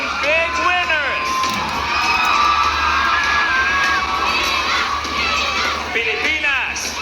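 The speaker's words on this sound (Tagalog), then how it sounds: "Sigaw para sa ating big winners!" A large live audience at a Filipino reality-show big-winner announcement cheers and shouts loudly and continuously, with high-pitched screams and whoops rising throughout.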